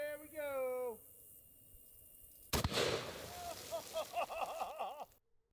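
A Boys anti-tank rifle, the WW2 British weapon, fires into water jugs with one sudden, very loud blast and a spreading splash and rumble, framed by voices talking before and after.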